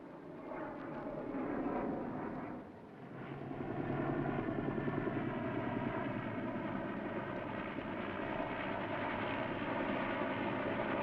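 A helicopter in a 1954 sci-fi film flies toward a crash site, a continuous rumbling engine and rotor drone that dips briefly, then swells louder and holds steady, with no talk over it.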